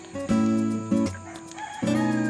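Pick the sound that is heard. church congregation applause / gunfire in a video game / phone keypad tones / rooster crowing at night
rooster crowing at night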